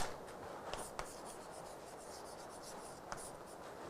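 Chalk or marker scratching on a board during an engineering lecture on earth pressure against retaining walls, with soft strokes and a few sharp taps over a faint room hiss. No one speaks.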